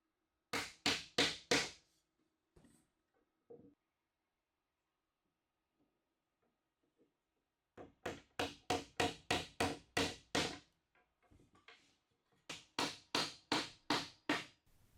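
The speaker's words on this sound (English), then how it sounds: "Then I can get some glue on the dowel, pushed into the holes and tapped into place." Glued wooden dowels are knocked into their holes while building a clothes airer. Quick runs of sharp, close taps come in three bursts, with quiet pauses and a few softer knocks between them. No speech.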